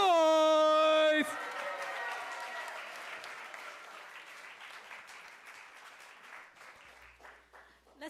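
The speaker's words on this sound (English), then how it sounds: "Let's give it another round of applause" An auditorium audience applauds and cheers, a dense wash of clapping that starts over a sustained tone and slowly fades across the clip.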